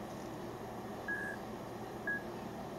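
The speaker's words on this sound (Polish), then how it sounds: "słuchawki zapiszczały, czyli połączyły się" Genius HS 920 BT Bluetooth headphones emit two short, clear electronic beeps about a second apart on pairing, faint against a quiet background hiss.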